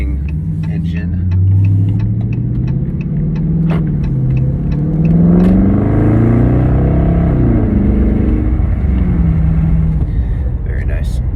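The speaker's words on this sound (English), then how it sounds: "See if we can get some of that morning engine." A V8 car engine runs on a morning street with a deep rumble that climbs and falls through a few revs, loud and close, while a person talks over it.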